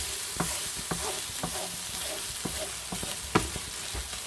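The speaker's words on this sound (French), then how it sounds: "Il faut toujours mélanger, sans arrêter" A feta mixture for samosa filling stirred in a hot pan, a utensil scraping and tapping in a steady rhythm over a soft continuous sizzle, close and fairly quiet with no talking.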